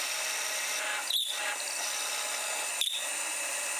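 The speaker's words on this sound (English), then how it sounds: "I'm drilling a hole to sink the screw head" A power drill bores a hole in a maple workbench part: two brief, sharp whirring bursts about a second and a half apart, close up against a steady background hiss.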